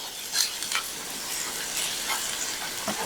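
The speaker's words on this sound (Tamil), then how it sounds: "சும்மா ஒரு ஒரு நிமிஷம் வதக்கினா போதும்" Onions and lentils sauté in a pan for paruppu urundai kuzhambu, a continuous fizzing sizzle with soft scraping stirs rising and falling through it, close and moderately loud with no talk.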